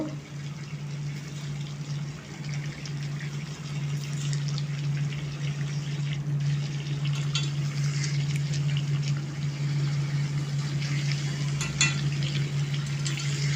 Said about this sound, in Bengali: এবার এই জলের মধ্যে আমি আলুগুলো একে একে দিয়ে দেব